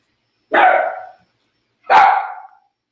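A dog gives two separate loud, close barks about a second and a half apart, each a short husky burst with a brief tail, with silence between them.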